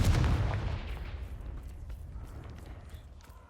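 A Confringo fire spell from Hogwarts Legacy, a single loud booming blast up front that decays into a long rumbling tail fading over a few seconds, with no talking.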